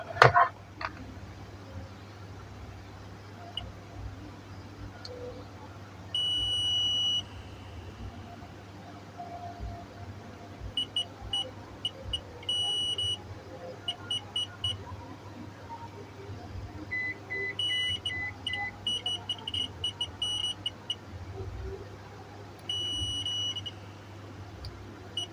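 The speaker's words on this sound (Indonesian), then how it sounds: "Oke, sekarang buat tes buzzer." A Heles UX35 multimeter sounds its continuity buzzer in short, high-pitched beeps, some held for a second or two and others quick and stuttering, over a constant low electrical hum, fairly faint and close.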